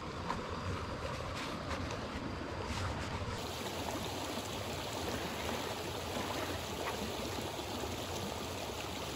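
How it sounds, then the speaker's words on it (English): A small river flows steadily nearby as a cyclist crosses it on a solo ride toward Nepal, producing a continuous, close rush of water with no speech. "I only have to pass this small river"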